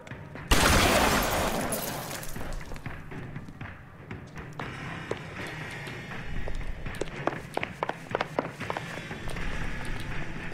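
Gunfire during a police shootout in L.A. Noire, a loud burst of shots at the start followed by scattered sharp cracks, thuds and footsteps, with no talking.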